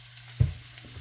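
Cabbage frying in a pan, a steady soft sizzle with a brief louder hiss as the pan is stirred or food shifts, close and alone.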